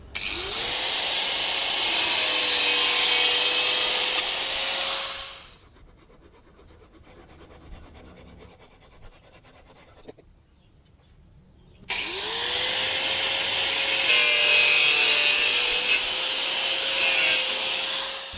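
A plastic pipe being hand-sawn into rings for a homemade hydroponic tower: two long spells of steady, close, loud rasping strokes with a quieter pause between them, with no talking.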